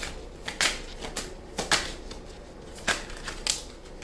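Tarot cards shuffle and flick in short, papery bursts, a handful of quick snaps and riffles spaced out over a few seconds, close and fairly soft.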